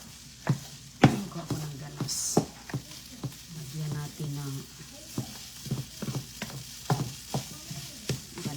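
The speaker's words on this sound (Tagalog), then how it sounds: "Adin magprito kog tuyo tapos maganas" Tuyo, dried fish, frying in a pan, with a steady crackling sizzle broken by sharp pops and stirring clatter, close and moderately loud, no talking.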